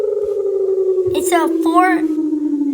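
An emergency alert system alarm siren wails alone in a long, steady tone that slowly glides downward, joined midway by two brief rising-and-falling warbling bursts, loud and close, with a voice talking faintly at moments.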